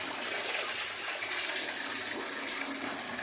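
Water gushes and splashes steadily as it is poured over a plant, a close, loud, continuous rush with no pauses.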